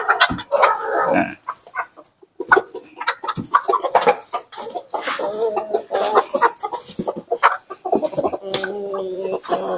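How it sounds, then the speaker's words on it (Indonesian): Chickens cluck and squawk in short irregular bursts inside a backyard coop, close by, with scattered rustling and a few other animal calls mixed in. "ayam yang ada di dalam kandang ini"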